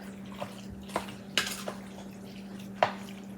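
Penne pasta with a touch of sugar gets stirred in a large pan, heard as a few scattered clinks and scrapes of a utensil against the pan over a low steady hum.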